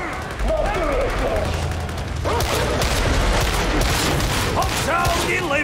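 Gunner firing weapons in a Warhammer shooter video game, loud overlapping shots and booming impacts with mechanical clatter, heard in busy combat under in-game shouting.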